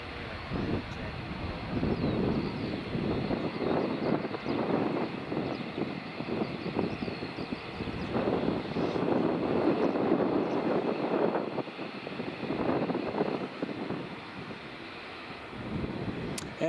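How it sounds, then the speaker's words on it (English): A Smartwings airliner approaches runway 24 at Edinburgh Airport, its distant engine roar swelling and fading in a steady wash under heavy wind buffeting on the microphone. "Smart Wings is just approaching runway 24 now"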